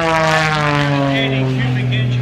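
A propeller aircraft with a Lycoming engine of well over 300 horsepower flies at the Cleveland air show, its loud steady droning hum clear and continuous, with a voice talking over it.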